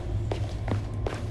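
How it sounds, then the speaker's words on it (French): Footsteps in the Slender horror video game, three soft, evenly spaced steps close by over a steady low background drone, with no talking. "Il y a des petits bruits de pas, c'est bien agréable."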